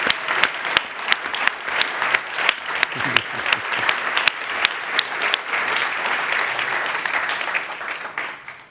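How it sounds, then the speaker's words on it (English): Audience applauding the Climate One crew at the close of a live climate-themed talk event, a steady wash of many hands clapping that holds for several seconds before fading at the end. "Let's give them a round of applause for"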